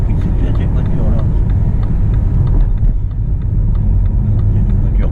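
Race cars pass at a motorsport event, a loud, continuous engine roar and rumble that fills the scene, with people talking over it.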